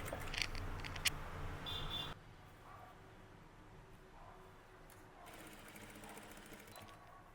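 A sewing machine stitching along the edge of thread piping runs in a short, steady whirring burst for about two seconds, then stops, leaving a quiet room with faint background noise.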